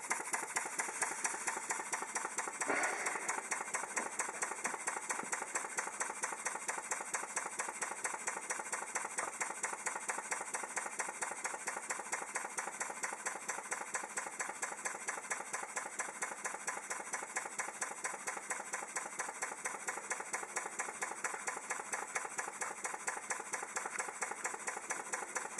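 A vertical steam engine running steadily with a fast, even mechanical chuffing and clatter, close and continuous with no talk, a single brief knock near the start.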